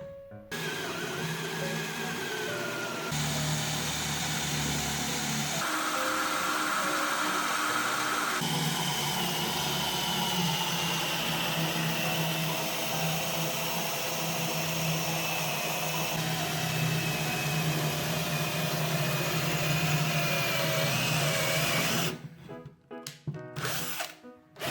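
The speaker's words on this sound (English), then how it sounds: "Next we are going to drill some holes in this bead." A power drill whirs loudly and continuously, changing pitch as it bores holes into wood, with brief pauses before the motor cuts off near the end.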